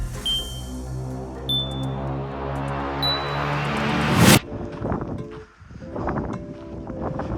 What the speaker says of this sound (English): It's actually rather relaxing if it wasn't so windy and cold.